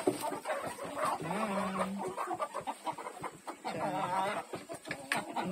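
A flock of chickens clucks steadily as they are fed beside a person at a family home, the clucking near and continuous with no talk.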